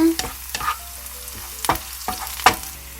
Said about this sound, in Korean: 대파를 달달달 볶아 대파기름을 내줍니다.